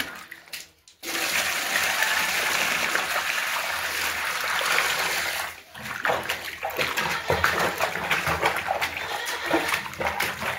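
Water pours and splashes steadily for several seconds, stops briefly, then resumes with more splashing and clatter.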